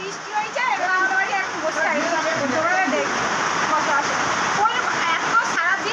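Dense, steady rain pours down in a continuous wash, with splashing and spatter throughout and some bird-like chirps or voices faintly mixed in.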